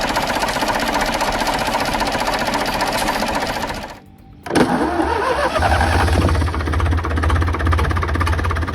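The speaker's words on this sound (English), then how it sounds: "the HA4 is the four-cylinder, water-cooled version. This engine chugs along at a low speed" A Lister Petter HA4 four-cylinder, water-cooled diesel engine runs with a steady, rapid mechanical drone, loud and close, briefly cuts out, then restarts and settles into a low, even chugging hum.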